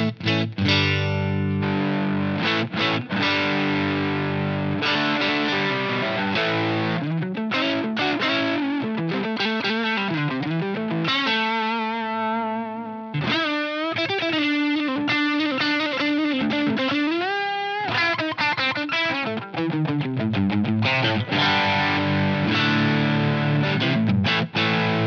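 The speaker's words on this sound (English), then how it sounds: "I'm going to kick in a Boss Super Overdrive on top of this so that you can hear it on both the USA and the UK mode." An electric guitar played on the neck pickup through a Boss Super Overdrive pedal and a Blackstar AMPED 1 set to USA mode produces a driven, distorted tone. Chords and sustained single notes ring out loud and close with no talking.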